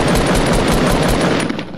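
Close, loud gunfire in the video game Fortnite comes as a rapid, rattling string of shots, evenly spaced and steady, fading slightly at the end.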